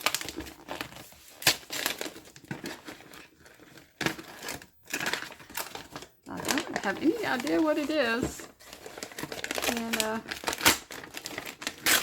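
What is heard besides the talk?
paper crinkling while unwrapping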